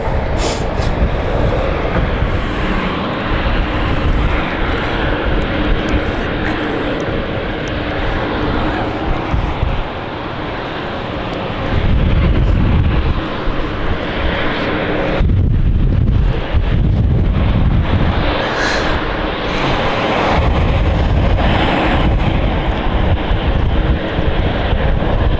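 At London City Airport during a storm, a jet engine roar swells and rumbles amid heavy wind buffeting the microphone, the noise surging in long gusts while a voice talks intermittently.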